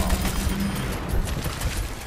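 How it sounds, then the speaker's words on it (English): Revolver gunshots ring out in Overwatch, a rapid string of sharp cracks fired close by over steady game noise. "With a shot from his revolver, cool."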